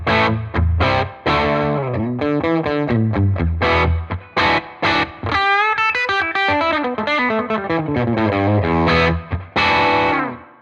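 Heavily distorted electric guitar played through an amp model plays a riff of chugging chords and sustained bent notes, loud and saturated with a gritty amp tone.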